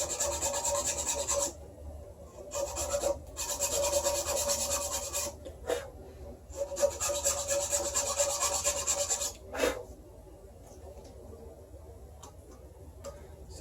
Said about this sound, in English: So I'm going to keep filing it down.